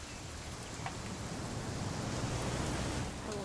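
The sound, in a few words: rain in video game What Remains of Edith Finch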